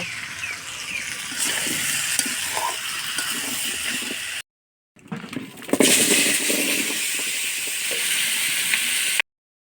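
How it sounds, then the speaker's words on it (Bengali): Potatoes fry in a pan with a steady, loud, broadband sizzle. It drops out briefly near the middle and then returns just as strong. No one speaks. "তো আমার আলু ভাজা হয়ে গেছে"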